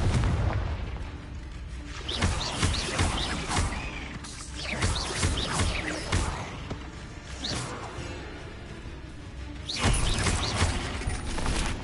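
Repeated Confringo blasting spells in Hogwarts Legacy, loud booming explosions bursting several times in a dense, continuous battle din, with a heavy blast near the end.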